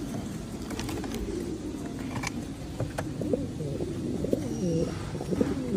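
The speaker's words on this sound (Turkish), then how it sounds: "güvercin." Pigeons cooing steadily throughout a pigeon loft, a chorus of overlapping soft coos with occasional wing flutters and chirps, moderately close and continuous.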